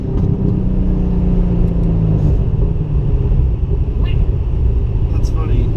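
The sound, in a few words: straight-piped Chevrolet Corvette engine during a ride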